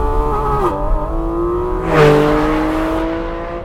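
A Porsche 718 Cayman GT4 RS flat-six revs hard, its pitch sweeping up and falling back twice in quick succession, loud and close with intake breathing audible and no talk.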